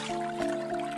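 River water trickles and drips steadily in a short, close sound effect with a continuous liquid wash and a faint tonal hum beneath it.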